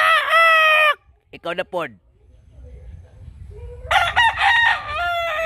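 A pet rooster crows loudly and close by, two long cock-a-doodle-doo calls separated by a pause, while a person talks between the crows.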